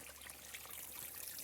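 Small, inexpensive fountain at an outdoor turtle pond, a steady soft trickle and splash of water running continuously, fairly faint with no voices.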